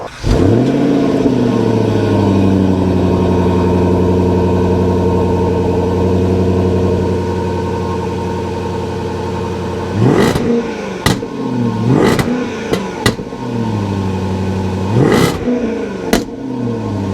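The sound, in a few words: supercharged V8 car engine revving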